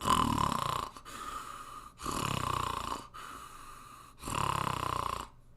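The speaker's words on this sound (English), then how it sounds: "Mrs. Bear began to snore." Loud, rhythmic snoring repeats in slow cycles of rasping breaths, close and steady, with brief pauses between each snore.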